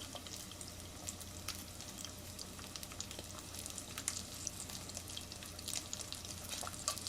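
Three eggs frying in a pan, a soft continuous sizzle with scattered crackles and pops, quiet and steady with no voices over it.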